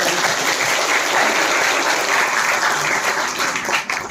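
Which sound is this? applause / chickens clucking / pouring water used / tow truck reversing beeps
applause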